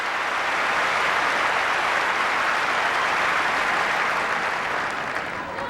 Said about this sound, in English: even the Aussie has to clap on that one